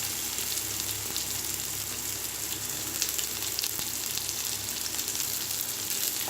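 Green chili and chopped large onions frying in oil in a pan for Kerala-style kadala curry, a steady close sizzle running throughout with no talk.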